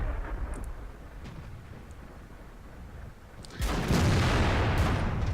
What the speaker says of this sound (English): Those tanks are returning fire.